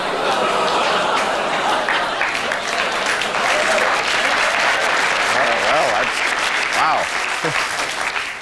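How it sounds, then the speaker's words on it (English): A television studio audience moves from booing into applause, a loud, continuous crowd roar with dense clapping throughout and some laughter mixed in. "Booing going into applause."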